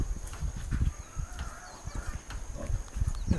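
Pig in a pen made of banana wood giving low, irregular grunts and snuffles close by, with rustling and shuffling among them.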